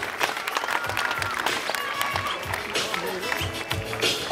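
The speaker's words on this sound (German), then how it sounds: "Der ganze Jugendpark, bitte mal einen fetten Applaus für die Lara." Crowd at a youth park BMX contest applauds rider Lara Lessmann, loose clapping and cheering that swells and dips, with an announcer's voice and scattered bumps and thuds over it.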